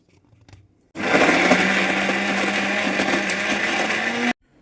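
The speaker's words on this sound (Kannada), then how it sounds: "ಇವೆಲ್ಲ ಹಾಕ್ಕೊಂಡ್ಬಿಟ್ಟು ಮಿಕ್ಸಿ ಮಾಡ್ಕೋಬೋದು" A kitchen mixer grinder whirs loudly for about three seconds grinding fenugreek chutney, starting and stopping abruptly, with a steady motor whine throughout.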